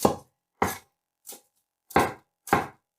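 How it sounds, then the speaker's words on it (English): An onion is roughly chopped with a knife on a board, six sharp, close chops landing at an uneven, unhurried pace, each one crisp and loud with silence between. "You can just roughly chop it like I'm doing."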